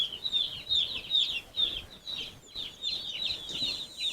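About seventy young meat chickens crowd together under a heat lamp, a constant chorus of high, rapid peeping and clucking close by.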